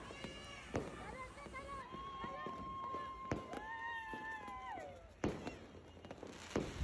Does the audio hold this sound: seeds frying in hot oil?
no